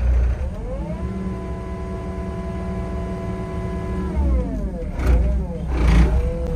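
A small Caterpillar excavator's engine revs under throttle close by, its pitch climbing and holding, then dropping and surging again in short bursts toward the end.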